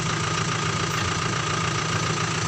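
Ashok Leyland 1012 dump truck engine running steadily while powering the hydraulic tipper body lift, a loud, continuous mid-to-low rumble with a slight knocking texture and no pauses.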